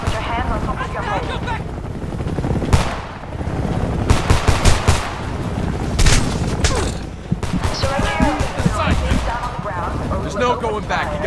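Heavy automatic gunfire in the video game Homefront, loud, near bursts of machine-gun fire mixed with single shots and what sounds like a helicopter, with shouted voices in between.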